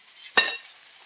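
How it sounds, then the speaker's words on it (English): A spoon stirs a tomato and arugula salad with dressing, making a single short wet scrape and clatter in the bowl, close and brief, with no talking. "stir everything together"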